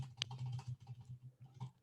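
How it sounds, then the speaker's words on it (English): Keys on a computer keyboard are pressed in a short burst of soft, close clicks and taps, fairly quiet, with one sharper click standing out among the rapid presses. "if I press the H key or whatever key I want on my keyboard, it will literally put in letters into the search field"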